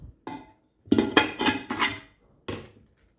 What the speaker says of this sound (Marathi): कुकरमध्ये पाणी घालून पातेलं ठेवून घेते.